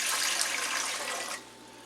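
Warm water, about 110 degrees, pours steadily into a big mixing bowl for whole wheat bread dough, a close, broad rushing stream that cuts off sharply partway through.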